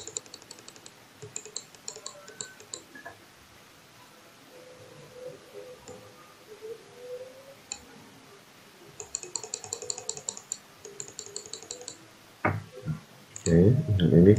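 Computer keyboard keys are tapped in short clustered bursts with quiet gaps between them, fairly close, followed by louder rustling and handling noise at the end.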